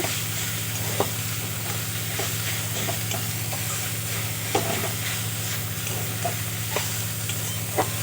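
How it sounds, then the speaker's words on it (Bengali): Mustard greens (shorshe shaak) cooking uncovered in a pan while being stirred, a steady sizzle under occasional soft scrapes and taps of the spatula, close and alone. "কিছুক্ষণ ঢাকা দিয়ে রেখেছিলাম খুলে দেবো এভাবে করে নেড়ে চেড়ে রান্না করে নেব"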